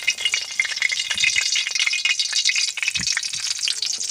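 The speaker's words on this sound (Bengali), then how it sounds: "ফোড়নে দেব গোটা গরম মশলা আর তেজপাতা" Whole garam masala and bay leaves sizzle and crackle in hot oil in a Bengali home kitchen, a steady close frying hiss with sharp pops and a few stirring clatters, no talking.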